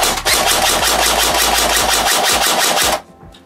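A BO Dynamics 8969 airsoft rifle fires in a rapid, evenly spaced stream of sharp mechanical shots for about three seconds, loud and close, then stops abruptly.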